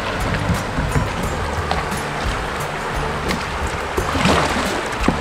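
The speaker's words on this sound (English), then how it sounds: "Here comes Alex, shredding the rapid." A kayak charges through a river rapid, with a dense, loud rush of churning whitewater and splashing running steadily throughout, close and unbroken.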